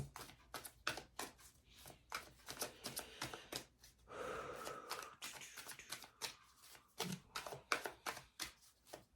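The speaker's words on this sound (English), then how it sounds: "And then we'll get an oracle card" Oracle cards are shuffled by hand in a quick series of close, crisp riffles and slaps, with a short breathy pause midway before the brisk flicking resumes.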